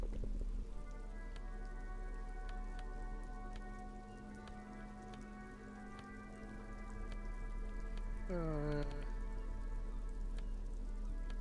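Rain falling in the video game Disco Elysium, a soft steady patter under a low musical drone with a brief rising tonal swell near the end.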